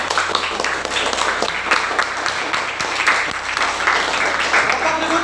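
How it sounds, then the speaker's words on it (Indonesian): Applause for the first student group in a classroom teaching session, a dense, steady patter of clapping from a small crowd sustained throughout with a low hum beneath. "tepuk tangan untuk kelompok 1"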